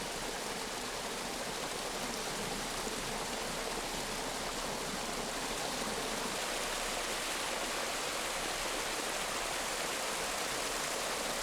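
Water flowing and falling down a valley stream at Geumneung Gyeongpodae in Gangjin, a steady, even rushing wash with no pauses, moderately loud and close.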